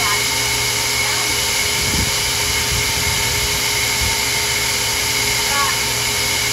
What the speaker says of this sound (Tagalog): Nagbabakyum ako ng sarili kong sasakyan.